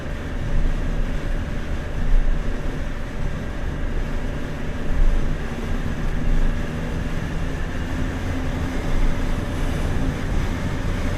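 A Can-Am F3-S motorcycle with a 1330 cc engine cruises along, its steady engine drone and road rumble continuous and fairly loud throughout, with wind noise and no talking.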